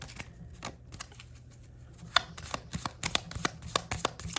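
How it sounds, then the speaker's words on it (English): Tarot cards being shuffled and pulled close up. Sparse soft flicks come first, then a quicker run of crisp riffling clicks. "that's the last card we'll pull for today"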